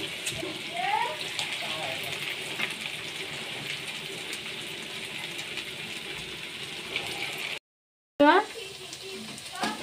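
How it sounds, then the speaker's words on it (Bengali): Radish-greens fritters fry in oil over low heat, giving a continuous soft sizzle and bubbling broken by a brief silent cut near the end. "এরকম টাইম দিয়ে দিয়ে ভালো করে ভাজবেন"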